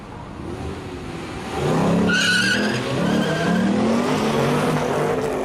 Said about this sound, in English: Nice little turbo sitting under the bonnet of that Commodore.